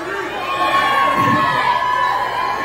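Concert crowd at a live show in a Waco, Texas tap house, loud sustained cheering and shouting with high voices, close and dense, over music.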